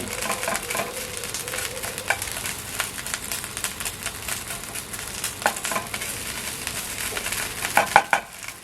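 Thai curry paste stir-fried in a pan over medium heat, a close crackling sizzle with repeated scraping and clattering strokes of a utensil against the pan throughout, no speech.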